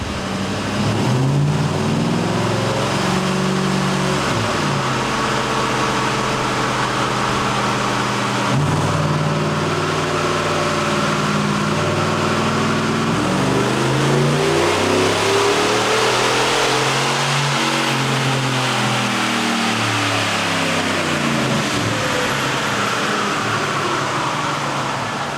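High-mileage 2010 Ford Raptor with the 5.4L 3-valve V8 strapped on a dyno, revving repeatedly through rising and falling sweeps over a steady fan roar, loud and close throughout.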